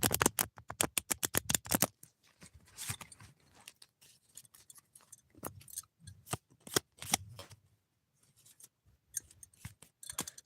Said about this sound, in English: the flipping of the cards,